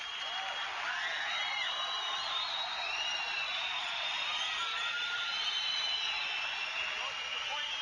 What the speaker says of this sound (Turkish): Herkes alkışlıyor